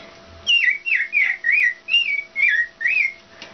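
A woman whistles an imitation of an American robin's song: about seven clear, warbling phrases in a quick, steady series, close and fairly loud, with no other voices.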